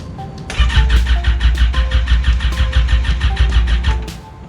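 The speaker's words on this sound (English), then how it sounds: "I'm going to try and start the bike again." A Yamaha FZ6R motorcycle with a dead battery cranks over loudly without catching, a rapid, steady rhythmic churning of the starter lasting a few seconds before it stops.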